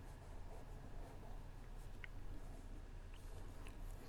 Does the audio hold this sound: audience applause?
no